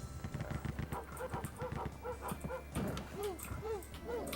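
A dog in the Rise of the Triad: Dark War video game gives a rapid series of yipping barks and whimpers over a busy, rhythmic game soundtrack.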